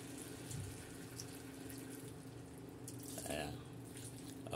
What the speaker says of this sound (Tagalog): lagay tayo konti ng tubig